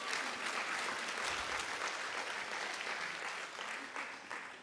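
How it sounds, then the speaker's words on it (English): Audience applause at a women-in-tech conference, a steady wash of many hands clapping that stays fairly even and slightly distant, easing a little toward the end. "A hand of applause for those boots."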